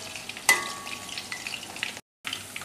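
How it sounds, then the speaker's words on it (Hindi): Chicken 65 pieces deep fry in hot oil, making a close, continuous bubbling sizzle with a sharp crackle near the start and a short break near the end. "ऐसे ही हम बाकी के भी फ्राई कर लेंगे।"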